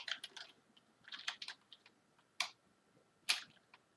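Quiet clusters of key clicks from a Rii RK900 gaming keyboard, in short irregular bursts with pauses between them, ending in a few single sharper taps.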